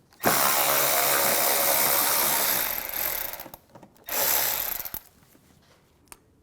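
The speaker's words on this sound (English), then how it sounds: "I'm going to remove this screw using an 8mm socket." A ratchet fitted with an 8mm socket backs a screw out on a 2009-2013 BMW 328i xDrive during washer reservoir work, giving a loud, dense clicking run for about two seconds, then a shorter burst after a pause, with no talking.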